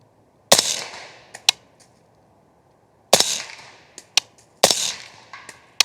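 Three sharp subsonic .300 Blackout 208-grain rifle shots, each a loud crack with a short decaying tail, spaced a few seconds apart, with smaller clicks and clatter in between.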